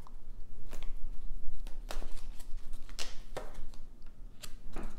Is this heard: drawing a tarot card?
yes